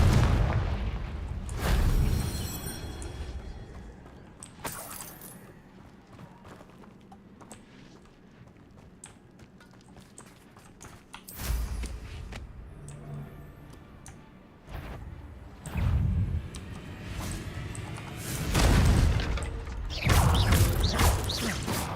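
Incendio and Confringo spell blasts go off in Hogwarts Legacy, producing repeated loud booming bursts and crackling impacts in clusters across the stretch, separated by quieter mechanical rattling, with no voices.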